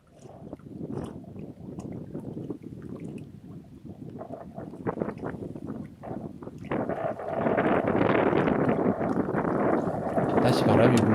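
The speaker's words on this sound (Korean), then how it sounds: "다시 바람이 불죠." Gusty wind at a fast-flowing river during float fishing, buffeting the microphone in rough bursts that grow stronger and steadier toward the end, with faint watery sounds underneath.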